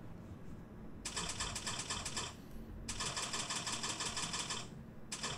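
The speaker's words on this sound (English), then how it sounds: "I like typewriter intros a lot." Rapid typewriter keystrokes clatter in bursts during the Yakuza Kiwami video game intro, two long runs of dense clicking separated by a short pause, fairly quiet and with no voices.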